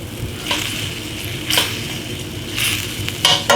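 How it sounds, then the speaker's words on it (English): Garlic and shallots dropped into a hot pan, a steady close sizzle with a few brief bursts of hiss and pan clatter as they land and settle. "Just going to drop that garlic in there. I'm going to put those shallots right in there."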